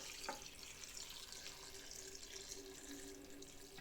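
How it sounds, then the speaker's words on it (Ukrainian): Water pours steadily from a tap into a sink, a continuous hiss with a brief knock near the start, measuring water for gooseberry jam. "Лємо воду."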